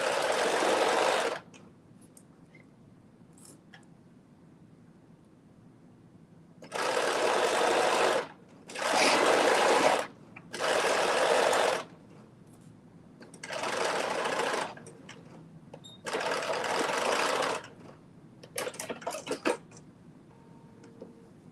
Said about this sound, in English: I'm just stitching these together at 5/8 inch seam allowance.